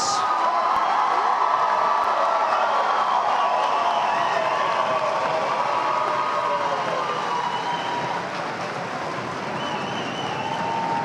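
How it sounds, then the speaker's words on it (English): A large commencement ceremony audience cheers and applauds, a broad sustained roar of voices and clapping with shrill whoops riding on top, loud and continuous before easing slightly near the end. "a round of applause for these candidates"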